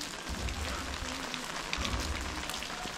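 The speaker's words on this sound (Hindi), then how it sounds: "बारिश में भीगते हुए?" Steady rain falls around the Vishwa Shanti Stupa in the Ratnagiri hills, a dense, even patter of drops that holds level for three seconds with no voices.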